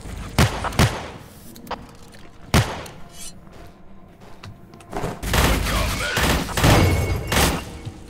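Gunfire in the game Forgive Me Father: sharp, booming shots at irregular intervals, a few isolated blasts early on, then a dense volley of loud, rapid firing toward the end.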